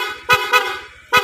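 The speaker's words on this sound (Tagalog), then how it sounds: "dual horn setup" Dual loud horn on a Honda ADV 160 scooter with a TDD Night Ranger horn set on its rapid setting, sounding close and loud in three short harsh honks with gaps between them.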